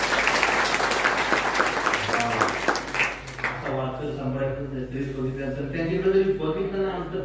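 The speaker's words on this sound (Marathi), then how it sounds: "त्यांच्याकरता एकदा टाळ्या वाजवा" An audience claps loudly at a kirtan during an Akhand Harinam Saptah in Nipani, a dense burst of applause lasting a few seconds before it fades and a voice carries on speaking.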